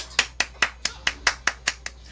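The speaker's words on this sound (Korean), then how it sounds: "자축의 박수" Nine crisp, evenly spaced hand claps in quick succession, close and alone, a brief self-congratulatory round of clapping.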